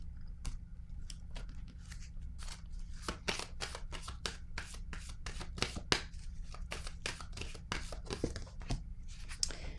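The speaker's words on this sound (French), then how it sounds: "je vais piger une autre carte ici." Tarot cards are shuffled and drawn, giving a quick run of crisp riffling snaps and flicks, close and fairly quiet, with no talking.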